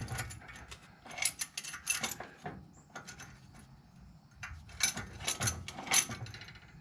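A steering tie rod adjuster on a conversion kit is unscrewed by hand, giving quiet clustered metallic clicks and thread rasps in two short bursts with a lull between, close up.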